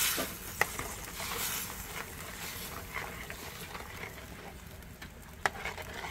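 Potatoes frying in a pan being stirred, a soft continuous sizzle and scrape with a few sharp utensil clicks, close and unaccompanied by speech.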